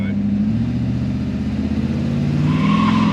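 A car engine with a Gen3 PCM holds a steady, loud rev at high idle while held on the brake for a standing start, droning evenly before rising slightly near the end, with no talking.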